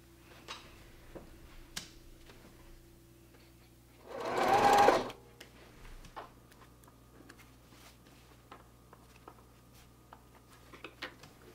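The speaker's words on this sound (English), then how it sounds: "we're going to put these all together and then stitch along the line" A sewing machine stitches quilt block pieces along a marked line in one short steady burst of fast whirring, heard up close between quiet handling sounds.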